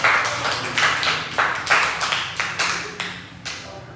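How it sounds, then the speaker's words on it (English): A small classroom group claps for a student in short, uneven bursts of a few hands, close and moderately loud, fading between rounds over about four seconds. "can we give a round of applause for Chandra"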